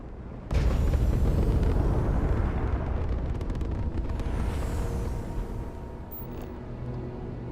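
A grenade launcher round in Starfield goes off with a sudden loud blast, then a long rumbling roar of debris and fire that stays strong for several seconds before easing slightly.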